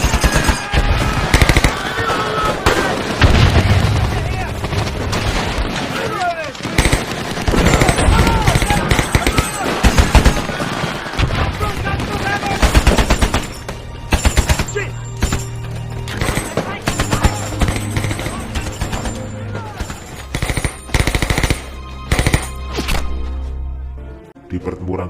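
Intense gunfire rattles almost nonstop, rapid machine-gun bursts mixed with single shots and thuds, loud and close, easing off briefly near the end.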